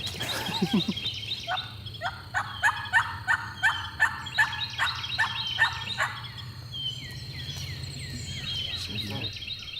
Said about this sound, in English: we heard a turkey and saw a turkey at the same time